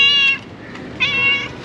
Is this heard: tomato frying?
no